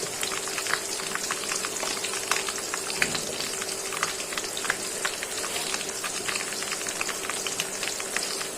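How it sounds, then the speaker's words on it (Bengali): Garlic and ginger paste frying in hot oil with onions for a country chicken curry, giving a steady, close sizzle scattered with sharp crackles and pops, with no talking. "পেঁয়াজটা ভাজা হয়ে গেছে, এখন দিয়ে দিচ্ছি রসুন বাটা"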